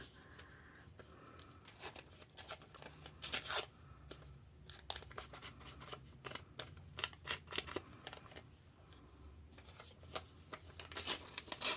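Paper being crumpled and torn by hand while making junk journal tags: quiet, close crackling and tearing bursts in an irregular rhythm, with no talking.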